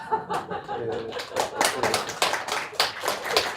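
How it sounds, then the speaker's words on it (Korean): Audience applause at a Korean commemorative ceremony, a dense patter of many hands clapping steadily for several seconds with a few light chuckles mixed in, fairly near and moderately loud. "박수가 후하셔서 너무 감사합니다."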